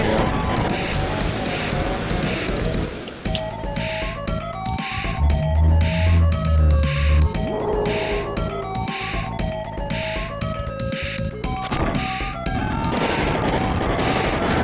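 Boss fight music from the video game Secret of Mana 2 plays with driving percussion and layered melodic lines, punctuated by loud crashing hits and smashing battle sound effects.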